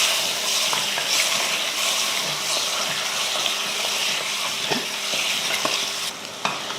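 Mutton with ginger garlic paste, tomato and turmeric fries in oil while being stirred. A loud, close, continuous sizzle runs throughout, broken by occasional scrapes and clinks of the spoon against the pan, with no voices.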